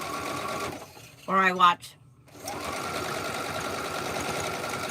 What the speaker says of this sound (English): That's a sewing machine